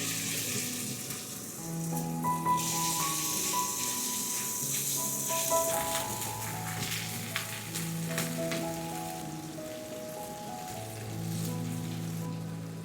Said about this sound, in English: cook the beef for another 40 seconds and set it aside